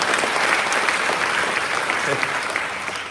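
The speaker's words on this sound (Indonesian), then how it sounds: "Tepuk tangan." A seminar audience in Singapore gives a burst of steady, dense applause that fills the room at close range and carries evenly from start to finish with no talk over it.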